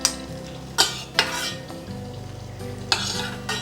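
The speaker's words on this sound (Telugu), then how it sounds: "ఈ జీడిపప్పు ముక్కలు కొంచెం కలర్ మారే వరకు వేయించుకోవాలి" Cashew pieces frying in a pan, with a steady low sizzle broken by several sharp metal spoon scrapes and clinks at irregular intervals, close and clear without voices.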